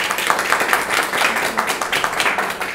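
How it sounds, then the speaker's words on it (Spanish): An audience at a trichology conference claps, a short, dense burst of applause from a modest crowd, loud and fairly even throughout. "le damos un aplauso"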